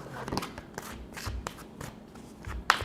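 Tarot cards are shuffled and pulled, giving soft, quiet riffling and sliding rustles broken by light taps and a sharp flick near the end.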